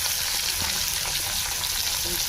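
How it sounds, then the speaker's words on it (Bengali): Continuous loud sizzle and crackle of green plantain slices frying in oil, close up, with faint scraping of a utensil stirring. "কাঁচকলাটা ভেজে নেই"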